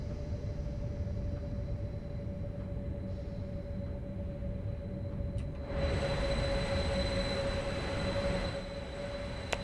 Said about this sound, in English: Definitely sounds nice for a electrified train as well.